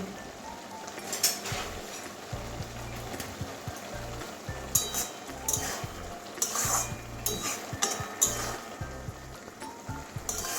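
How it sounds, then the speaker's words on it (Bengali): Cooked red amaranth greens curry with potato and brinjal is scraped from a pan into a bowl: irregular spatula scrapes and soft metallic clinks against cookware over a quiet hiss, close by, with no voices. "নামিয়ে একটা বাটির মধ্যে ঢেলে দেখাচ্ছি"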